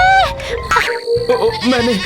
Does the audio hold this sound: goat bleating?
yes